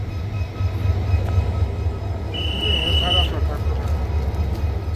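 The Baekdudaegan canyon train (V-train) in Korea rolls with a steady, heavy rail rumble and a brief high tone partway through, while people talk over it.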